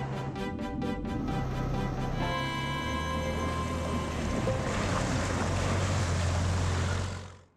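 A 1964 Amphicar amphibious car motoring along a river, its engine droning steadily with water and wind wash rushing past the microphone throughout, rising slightly before cutting off near the end.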